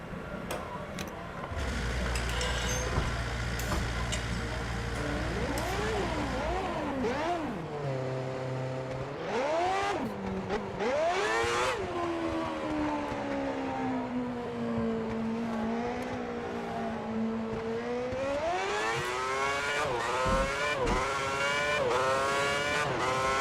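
A Formula 1 car in the F1 2010 racing game at Valencia fires up and drives off, its high-pitched engine climbing and falling through repeated gear changes, rising again into a steady, loud whine without any talking.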